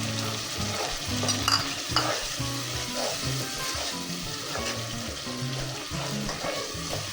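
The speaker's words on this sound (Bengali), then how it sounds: "আমি একটু ভালো করে নেড়ে চেড়ে দিচ্ছি।" Beef cooked with whole garlic and tomato ketchup being stirred in a pan: steady sizzling and frying with repeated scraping and clacking strokes of a spoon, close and fairly loud, no talking.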